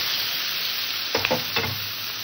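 Bhola fish fries in oil in a kadai over a low gas flame, giving a steady close sizzle with a short burst of stirring and scraping near the middle.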